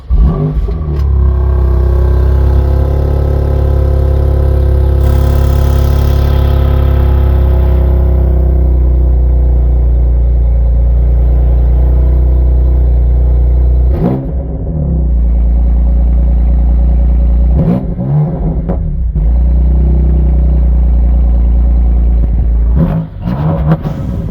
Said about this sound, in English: let's start it up so that you can hear how this glorious engine sounds